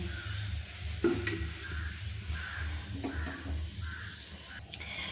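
Mustard oil heating in a wok just used for frying rohu fish makes a steady hissing sizzle, broken by a couple of brief utensil knocks, fairly close and with no talk.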